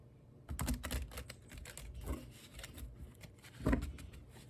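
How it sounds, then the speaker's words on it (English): Tarot cards are shuffled close by in a few quick rustling flurries, with soft riffling clicks between them and no voices. "Do some shuffling, of course."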